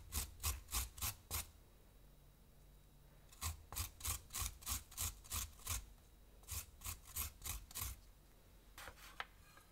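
Fresh ginger rasped against a grater for a chili garlic shrimp dish, close and crisp, in three bursts of quick rhythmic back-and-forth strokes separated by short pauses, with no talk.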